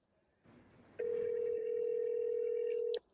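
Telephone line ringing during a call transfer: a single long, steady electronic ring tone lasting about two seconds, loud and close, preceded by faint line noise and ending abruptly.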